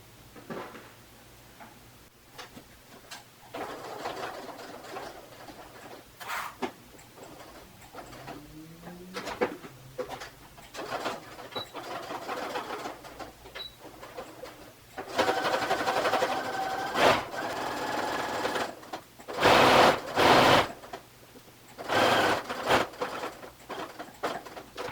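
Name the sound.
sewing machine stitching dress pocket edges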